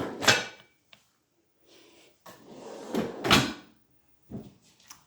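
Kitchen drawers and cupboard doors in a pan cupboard slide and thump open and shut, several separate knocks and rumbling glides with pauses between, close and fairly quiet.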